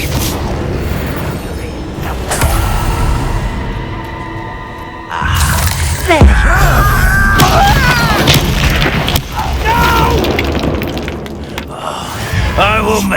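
Confringo blasting spells from Hogwarts Legacy go off several times in loud, close booms and crackling bursts amid game combat noise. Voices speak over much of the action.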